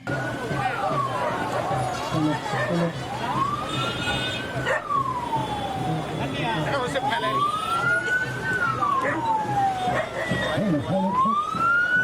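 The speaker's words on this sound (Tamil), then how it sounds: "ஒரு ஆம்புலன்ஸ் வேகமாக வந்தது" An ambulance siren wails in long rising and falling sweeps, fairly near, as the ambulance passes through an election campaign crowd in Chennai, while people talk over the noise of the street.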